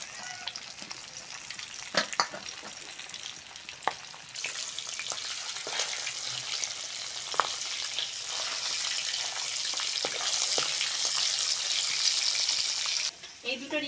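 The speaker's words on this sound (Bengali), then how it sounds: "এই দুটো রিং পিসও হালকা করে ভেজে নিয়েছি" Ring-cut pieces of hilsa fish fry in hot oil with a continuous bubbling sizzle that swells louder toward the end, broken by occasional sharp clinks and scrapes of a utensil in the pan.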